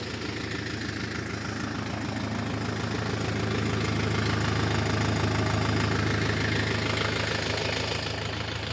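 A Scout 404 tractor engine drones steadily and loudly throughout as its wheels slip in wet mud while ploughing with a Kverneland plough, with a rough, churning rumble and no pauses.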